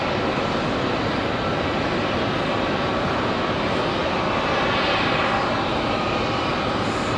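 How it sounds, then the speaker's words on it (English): A Frontier Airbus A321-200 bound for Chicago O'Hare takes off from Raleigh-Durham International, a dense, constant jet roar held at an even loud level throughout with no voices. "Frontier 3351 off to Chicago O'Hare"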